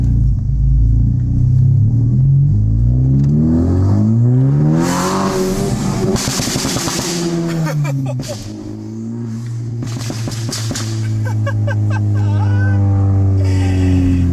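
A Honda FL5 Civic Type R fitted with a catless downpipe pulls away on a drive, its loud, deep engine note rumbling and rising through revs with sharp throttle changes and brief gear-shift dips, close and steady throughout.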